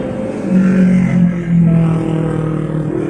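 A vehicle passes close by outside, a loud steady engine drone that swells and eases over a few seconds with no talking.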